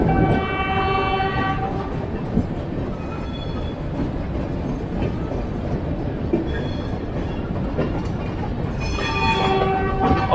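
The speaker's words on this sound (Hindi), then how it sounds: "ये बगल से क्रॉस हो रही है new Delhi new Jalpaiguri superfast." A New Delhi–New Jalpaiguri Superfast train passes close alongside. There is a steady loud rumble of wheels and carriages, with horn tones near the start and again at the end.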